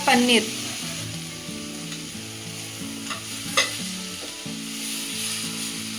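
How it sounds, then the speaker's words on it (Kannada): Tomatoes fry in a pan for a paneer gravy, giving a steady sizzle with stirring scrapes and a couple of sharp clinks, close and moderately loud throughout. "ಸ್ವಲ್ಪ ಹುರ್ಕೊಳ್ಳಿ ಟೊಮೆಟೊನ"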